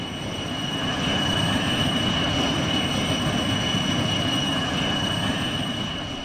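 An airplane flies in the Trainz video game, giving a continuous, even engine drone with a broad rushing hiss that stays steady throughout.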